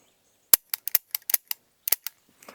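A CZ Shadow 2 pistol fires a rapid string of about ten sharp, cracking shots in quick irregular succession, distant-sounding and fairly crisp with short gaps between them.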